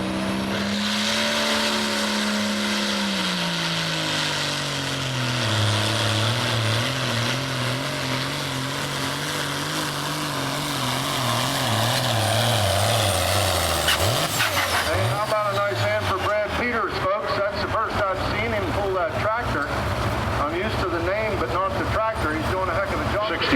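A Case 970 farm tractor nicknamed the Grub Killer roars at a tractor pull, its engine note climbing and bending in pitch as it loads up and then breaks into a rough, sputtering rumble, loud throughout and mixed with an announcer's voice.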